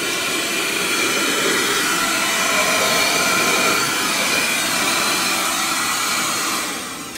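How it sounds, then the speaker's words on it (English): A small vacuum cleaner runs with a steady, loud, close whirring drone that holds for several seconds and then eases off at the end. "that is a solid little vacuum cleaner"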